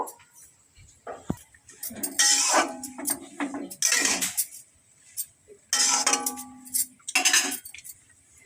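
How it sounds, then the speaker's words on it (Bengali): A spoon stirs and scrapes drumstick flowers in a metal pan while fritters are being made, giving several bursts of clinking and scraping separated by short pauses, fairly close and moderately loud. "তো দেখুন, দেখুন একটু নাড়ানাড়ি করে নেব।"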